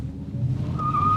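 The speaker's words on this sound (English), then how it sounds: "this thing will literally roast the front tires when you have that turned off" A Genesis GV60 Performance electric car launches with traction control off, its front tires spinning and scrubbing against the pavement, then a high tire squeal rises and holds near the end, all close and fairly loud.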